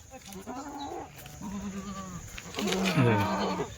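Kathiawadi goats from the Bhavnagar forest bleating nearby, three distinct wavering calls in quick succession, the last one loudest, with no talk over them.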